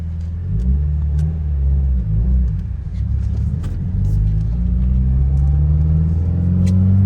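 A Subaru WRX with a 6-speed manual drives along slushy back roads, its engine rumbling low and steady throughout with slight rises in revs as it accelerates, a continuous close interior drone.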